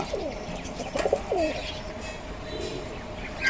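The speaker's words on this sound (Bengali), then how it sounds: "এই দেখুন অনেক সুন্দর সুন্দর কবুতর" Pigeons kept for sale coo close by, with a few rolling calls in the first half, over a steady ambient hiss of an enclosure.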